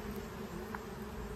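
Bees buzzing near honey and wax processing, a steady close insect drone with a brief louder burst as two of them tussle.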